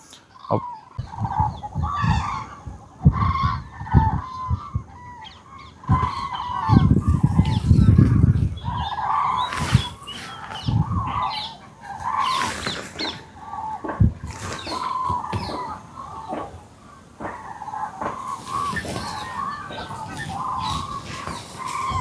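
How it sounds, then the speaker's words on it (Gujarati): Many water birds, including sarus cranes, call and cackle in a noisy, overlapping chorus at a lake in Thol Bird Sanctuary, Gujarat, some close and loud, others farther off, with brief gusts of wind. "પાણીની અંદર મસ્ત અહીંયા બધા પક્ષી બેઠેલા છે"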